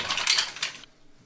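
A utensil clinks and scrapes against a pan while mussel marinara sauce with double cream and parsley is stirred, a short burst of bright metallic taps that stops abruptly, close up.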